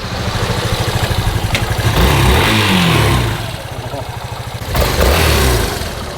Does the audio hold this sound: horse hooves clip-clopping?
no